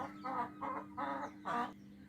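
An Asil hen clucks four times in a steady, evenly spaced rhythm, close and clear over a low steady hum.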